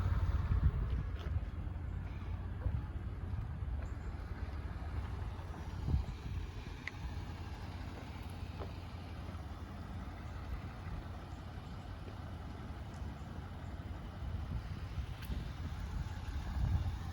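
A 2022 Toyota Highlander XLE idling, heard from the exhaust as a low, steady, fairly quiet engine rumble with faint outdoor noise and no talk.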